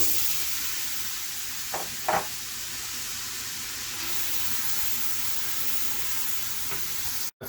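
Eight pounds of ground beef frying in bacon fat with chopped onions for Cincinnati chili, a steady hissing sizzle with a couple of brief stirring scrapes, close and even throughout, with no talk.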